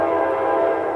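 A passing train near railway tracks by a home sounds its horn in one loud, sustained, steady blast, close and alone with no talking.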